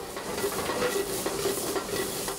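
Octopus stir-fries in a frying pan, with a steady, close sizzle and hiss and stirring scrapes running throughout, and no voices.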